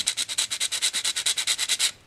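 Rapid, even back-and-forth rasping of sanding solder smooth on repaired OO gauge model axle boxes, about sixteen quick strokes, close and alone, then stopping.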